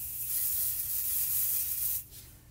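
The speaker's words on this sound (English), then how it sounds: "Now I am going to spray the back of this with a little bit of pixie spray" Pixie spray adhesive sprayed from an aerosol can onto the back of a stencil, a close, steady hiss lasting about two seconds before cutting off.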